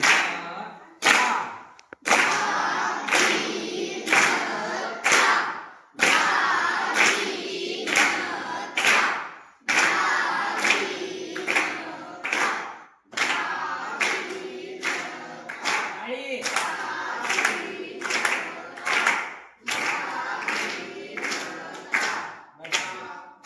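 A group claps in time to spoken mridang syllables during a lesson, sharp loud unison claps in a steady repeating rhythm, alternating with a voice and the group chanting back.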